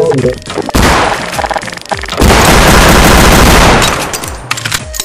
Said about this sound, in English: Who the fuck just shot me?